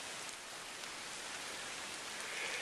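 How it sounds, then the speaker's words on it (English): Steady rain falls throughout on a hike to Granite Lake, a dense, even hiss that holds at a constant level for the whole stretch with no voices. "It's raining"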